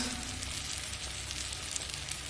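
Fried rohu fish pieces going into a hot pan of spiced masala with peanuts, giving a steady, close sizzle and crackle of frying oil throughout, with no voices.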